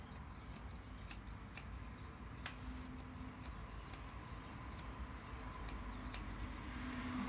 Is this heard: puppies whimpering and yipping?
no